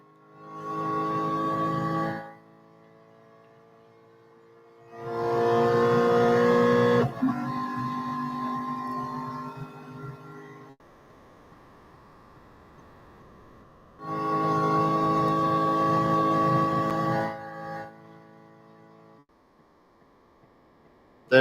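Race car engine noise from Real Racing 3, heard as sustained harmonic engine tones in three loud bursts with quieter gaps between them, pitch shifting through gear changes, and no talking over it.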